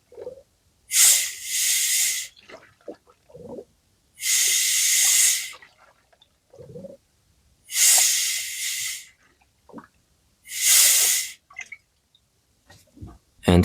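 Compressed air at about 1.5 bar is pushed into the coolant system of a VW 2.0 TDI EA288 engine in four loud, bright hissing bursts of a second or so each, with quiet gaps and small gurgles and clicks between them.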